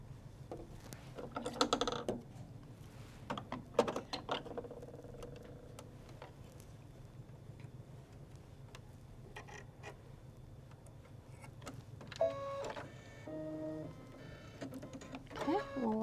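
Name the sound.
embroidery machine stitching the final outline in white thread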